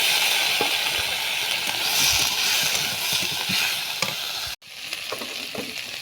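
Vegetables sizzle steadily in a hot pan for a pigeon pea leaf dish, with scattered scraping stirs and clinks throughout and a brief drop to near silence before the frying resumes.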